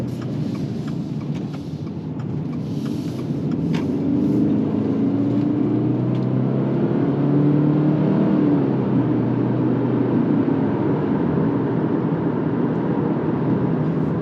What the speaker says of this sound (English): So you basically have the CVT experience, but it does simulate a little bit of gear shifting